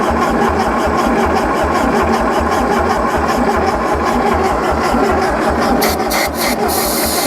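A long-abandoned 1974 VW Thing engine is cranked and sputters, producing loud, evenly spaced rhythmic mechanical pulses close by, with a few sharper clattering bursts near the end.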